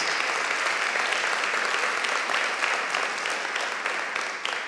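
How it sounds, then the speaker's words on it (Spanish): A church congregation claps loudly and continuously, a thick wash of many hands that stays strong from start to finish and fades only slightly at the close. "Dele fuerte ese aplauso al Rey de Reyes."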